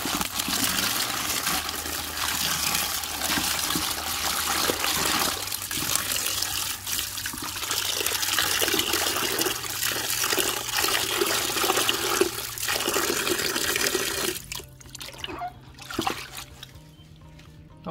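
Salted water runs in a steady, loud, close rush to soak dried ketapang or banana leaves, then stops near the end, leaving a few faint drips and splashes.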